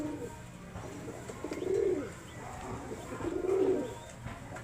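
A flock of pigeons gives two soft, rolling coos, fairly distant and quiet, against a low outdoor background.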